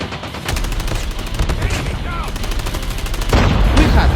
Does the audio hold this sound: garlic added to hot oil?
no